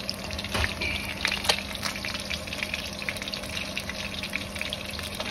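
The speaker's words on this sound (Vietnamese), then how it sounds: "Món cá rô chiên đây nha các bạn. Lên nhìn chiên được mỡ rồi đó." Climbing perch fish frying in hot oil, a continuous close sizzle with crackling pops and spits throughout, no talking.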